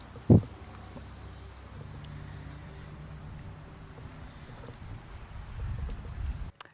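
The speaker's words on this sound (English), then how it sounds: "now that we have done basically the bad ending, it's raining." Steady rain hisses in the background of The Wolf Among Us video game, with a brief low thump near the start and a slight swell toward the end.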